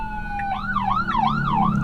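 Wailing emergency siren from a fire engine or ambulance passing near a hospital, rising and falling in a steady yelp pattern over low road and engine rumble, loud and close.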